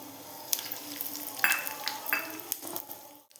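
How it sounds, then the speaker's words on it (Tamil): Fenugreek and cumin seeds roast in oil in a kadai with a quiet sizzle, broken by a few light scrapes and taps of a spoon against the pan. "அதில் நம்ம எடுத்து வச்சுருந்த இந்த வெந்தயமும் ஜீரகமும் வறுத்துக்கலாம்."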